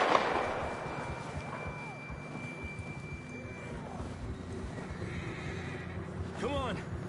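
A horse in Red Dead Redemption 2 gives a whinny at the start and another near the end, with faint clip-clop of hooves and voices talking underneath.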